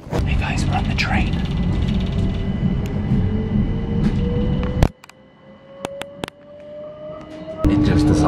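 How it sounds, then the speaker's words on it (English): Inside a Southern service train on a wet July day, a steady low rumble of motion with a rising whine drops away abruptly into a quieter hum with clicks before the noise returns. "Hey guys, we're on the train."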